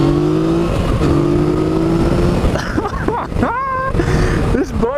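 A 2015 Yamaha FJ-09 motorcycle engine, loud and close, with a steady hum, then rising revs as it accelerates onto the road amid wind and traffic noise, while the rider talks over it.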